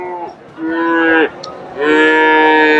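Friesian heifers low at a busy cattle market in Bogura, two loud, close moos, the first rising and then breaking off, the second long and sustained, with little else around them.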